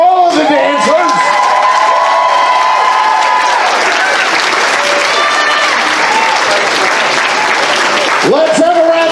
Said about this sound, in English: Let's have another round of applause for all of the dancers.